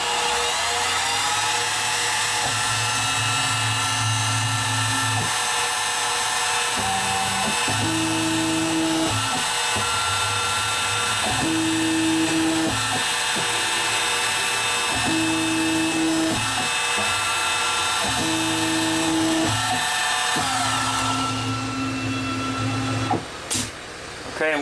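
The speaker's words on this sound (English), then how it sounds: "we're going to start drilling our holes now" A machine motor hums steadily while its pitch drops and rises in repeated cycles as a center drill works through metal several times, then spins down.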